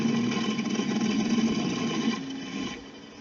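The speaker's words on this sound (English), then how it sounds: "that's the engine sound. And when it's at idling" A model speedboat motor idles steadily with a constant buzzing hum, close and fairly loud, then briefly drops away near the end.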